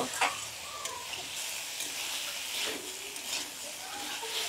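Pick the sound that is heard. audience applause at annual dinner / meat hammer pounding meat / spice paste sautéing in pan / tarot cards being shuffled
spice paste sautéing in pan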